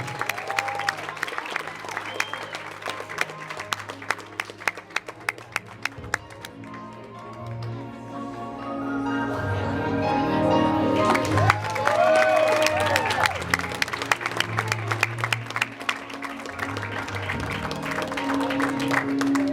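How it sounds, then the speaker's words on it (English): Applause and cheering from guests at a sweet sixteen birthday party, with scattered claps swelling into a fuller crowd roar midway and sharp taps throughout, voices mixed in. "Now, a great round of applause for Haleigh"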